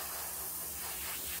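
Primer aerosol hissing steadily onto a 1/700 scale WW2 Bismarck battleship turret, a close, continuous spray burst with no pauses and no talk.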